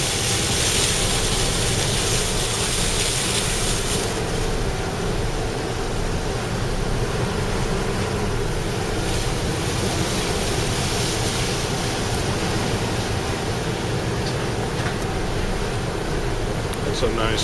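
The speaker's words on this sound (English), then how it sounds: "That old engine really churning up the water." The old engine of the Jet Express boat at Port Clinton, Ohio churns the water in a loud, steady rush of roaring surf-like wash that continues without a break.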